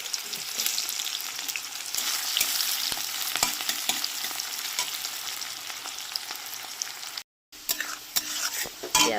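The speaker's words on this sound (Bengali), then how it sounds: "পেঁয়াজটা ভাজা ভাজা হয়ে গেছে" Chopped onion sizzles steadily in hot oil tempered with whole garam masala, dried red chillies and bay leaves, with frequent spoon-stirring scrapes against the pan, a brief silent gap near the end, then the frying resumes.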